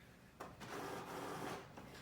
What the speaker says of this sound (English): We're just waiting on the printer.